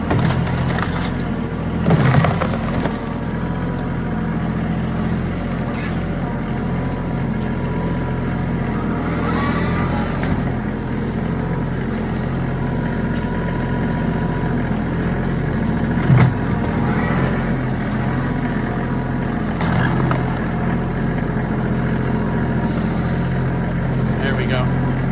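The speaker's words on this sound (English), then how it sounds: "I'm going to try to move it with the tractor" Tractor engine strains to push a fallen tree off a farm trail, a steady low rumble throughout with brief crunching and splintering wood at a few moments.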